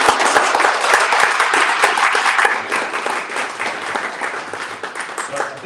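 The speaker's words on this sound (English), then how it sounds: "Let's give our panel a round of applause." An audience at a panel discussion breaks into sustained, loud applause, many hands clapping densely and evenly throughout.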